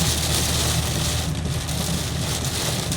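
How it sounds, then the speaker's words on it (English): Heavy storm rain with wind gusts beats steadily on a moving car, making a dense, loud, unbroken roar with no talk. "We've got wind gusts and heavy rain."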